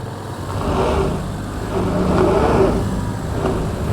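A 2024 Toyota Grand Highlander Hybrid MAX climbs an off-road test hill with its wheels slipping, giving a loud, steady engine drone that swells and eases as it strains for grip.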